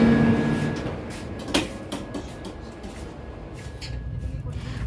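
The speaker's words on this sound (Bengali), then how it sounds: "দেখো ট্রেনটা আস্তে আস্তে চলতে শুরু করলো" A passenger train pulls slowly out of Alipurduar Junction on a trip toward Rampurhat, giving a steady low rumble with a faint sustained whine and a sharp clank or hiss partway through.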